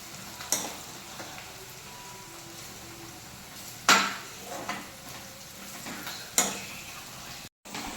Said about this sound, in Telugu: వెల్లుల్లిపాయ జీలకర్ర ఇవన్నీ ఉండలు లేకుండా ఫ్రై చేసుకోవాలి